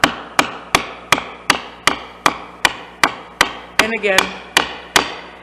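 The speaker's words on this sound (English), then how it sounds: "I'm going to take my hammer and just gently tap down." A hammer taps a chisel while paring wood on hand-cut dovetail tails, about fourteen sharp, evenly spaced strikes, close and clear, with a brief spoken phrase between blows.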